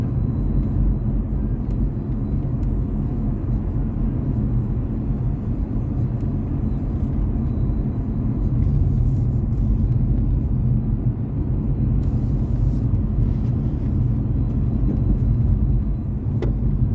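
Dacia Duster with a 1332 cc four-cylinder petrol engine pulls up through the gears, skipping from second to fourth, heard from inside as a steady low engine rumble and road drone that swells slightly midway.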